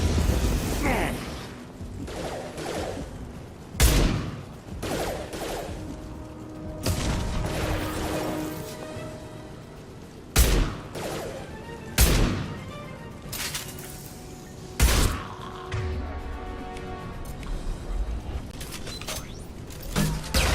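Gunfire in the video game Mass Effect 2: sharp, loud bursts and crackling impacts recur irregularly through a busy mix of mechanical clanks and whooshes, with occasional voices.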